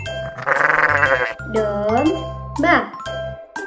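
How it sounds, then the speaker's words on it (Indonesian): Several short sheep bleats sound close and clear, one after another with brief gaps, over a bouncy repeating background tune with chime-like tinkles. "Domba"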